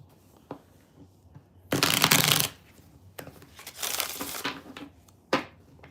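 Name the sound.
shuffling tarot cards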